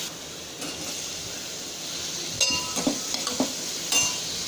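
Chopped onions with ginger and garlic being sautéed in a pan, with a steady low sizzle and a few scattered scrapes and clinks of a stirring spoon against the metal.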